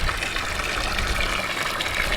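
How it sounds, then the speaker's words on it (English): Water gushes loudly and steadily into a splash pool being filled, a close, continuous rushing pour with no break and no voices. "We're just filling up the splash pool"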